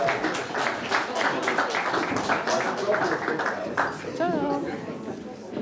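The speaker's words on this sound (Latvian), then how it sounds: "aplausi." Church congregation applauding at an Alpha course graduation, a burst of scattered clapping from a crowd mixed with chatter and voices, gradually thinning toward the end.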